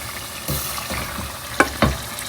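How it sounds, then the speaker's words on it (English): Tilapia fish dropped into a hot pot of Ghanaian okra stew, giving a short burst of sizzling with a couple of sharp splashy hits near the end, close and without talk. "Now I'm gonna put my tilapia in."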